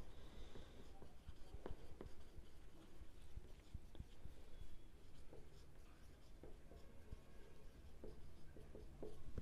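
A pen scratches across paper during an accounting problem, with soft irregular strokes and taps, fairly close and quiet, and faint speech in the background.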